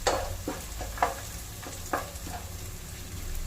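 Five or six cashews sautéing in a pan for tomato chicken rice, giving a steady soft sizzle broken by a few sharp scraping stirs, with no voices.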